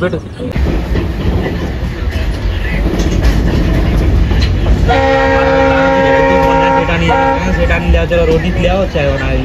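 Swarna Jayanti Express train at Miraj railway platform: a steady loud rumble of the train with a voice talking, then long sustained horn blasts sounding close from about midway to the end.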